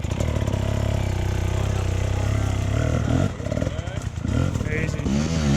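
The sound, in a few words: dirt bike engine low revs, clutch slip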